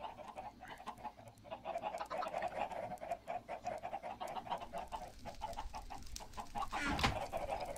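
Chickens in the game Minecraft cluck repeatedly in quick, overlapping bursts, many birds at once, moderately close and steady, with a short whoosh near the end.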